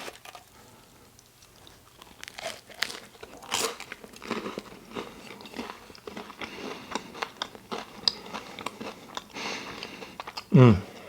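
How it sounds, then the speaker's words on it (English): Crunchy bites into crusty homemade garlic bread baked in a hot oven, several crisp crackling bites spread across the clip, close and fairly quiet, with a sharper louder crunch near the end. "By the sounds of it, I'm sure you can hear how crusty the top of the bread is."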